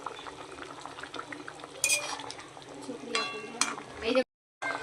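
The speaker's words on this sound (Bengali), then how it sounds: "ঝোলটা ফুটে গেছে, আমি মাছটা দিয়ে দিয়েছি।" Hilsa fish curry with mustard and poppy seed simmers in a pot, a steady bubbling boil with occasional clinks of utensils, close and moderately loud, and brief spoken voices over it before it cuts off.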